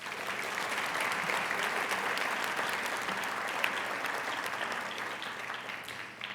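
A large crowd applauds steadily at a dean's list ceremony, dense overlapping claps filling the room at an even level for several seconds before tapering slightly.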